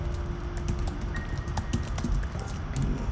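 Keys clatter on a computer keyboard in a quick, steady stream of light clicks, close but fairly soft, heard alone with no talking over it.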